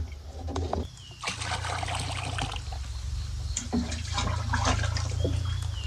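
Water and a fish-based jeevamrutha mixture slosh and churn in a large drum, a steady rushing, gurgling wash with faint trickles and a bird chirping faintly in the background.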